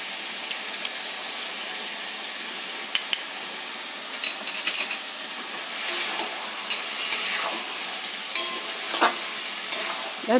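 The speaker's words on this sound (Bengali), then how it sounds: "ভালো করে কষতে হবে। অনেকক্ষণ লাগবে কষতে।" Lote fish jhuri sautéing in a pan gives a continuous close sizzle, broken by repeated clinks and scrapes of a spatula stirring against the metal pan, with no talking.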